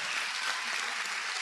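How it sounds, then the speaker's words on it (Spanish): A church congregation claps together in a brief, steady burst of dense applause, fairly close and even in level, with no voices over it. "Denle un aplauso al Señor Jesucristo"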